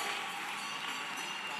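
A church congregation at a Sunday anointing service claps and cheers together in a dense, steady wash of applause that fills the whole moment without pause.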